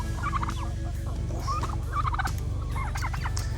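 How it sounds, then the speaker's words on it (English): Turkeys on a homestead gobble in repeated, bubbling bursts close by, over a steady low background hum with no talking. "Come here, turkeys."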